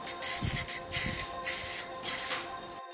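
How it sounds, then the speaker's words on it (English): Several bursts of black aerosol spray paint hiss in quick succession, close and fairly loud, with brief pauses between sprays and faint low thumps underneath. "Then we turned it over and spray painted it black and then let that dry."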